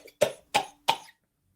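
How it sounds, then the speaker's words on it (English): Three short, dry coughs in an even rhythm, close and fairly quiet, followed by silence. "this is a normal cough"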